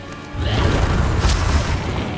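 In the Hogwarts Legacy video game, a Confringo spell blast gives a deep booming burst with a crackling rumble that lingers for about two seconds.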